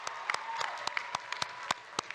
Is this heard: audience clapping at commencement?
yes